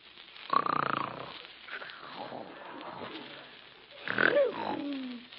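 Exaggerated snoring from a woman in an old-time comedy radio drama, two long rasping snores with a quieter drawn-out breath between them, close and fairly loud, performed by a voice actor imitating snoring.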